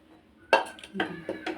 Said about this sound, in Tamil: வெயிட் எடுத்துட்டு திறந்து பார்ப்போம்